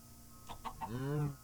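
A Minecraft chicken gives three quick, short clucks followed by a longer drawn-out squawk, close and fairly faint, with a low background hum and no talk over it.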